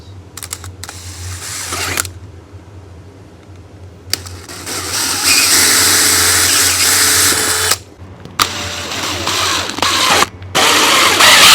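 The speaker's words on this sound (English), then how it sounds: "I think we're going to be safe to use this hole saw" A hole saw on a power drill cuts a hole in a box for a 12V power station build, with bursts of loud whining grinding separated by pauses and a few clicks.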